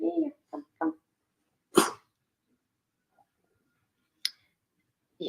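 A pet dog indoors gives a few short soft vocal bursts at the start, then a sharp sneeze-like snort and a brief click, with a quiet gap and another short burst at the end.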